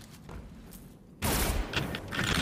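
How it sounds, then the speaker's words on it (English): Scout rifle fire in a Destiny Trials match: after a quieter stretch, a sudden dense, loud burst of rapid shots erupts and keeps going in close, overlapping cracks. "I'm getting sprayed by a scout rifle."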